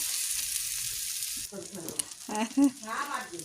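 Greens and egg fritters frying in hot oil give a loud, close, bright sizzle that suddenly drops away, followed by softer crackling, bubbling and stirring noises.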